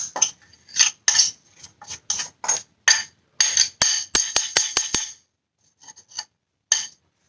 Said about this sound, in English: So now I'm going to put my mixture on here. Scoop it out and put it right there.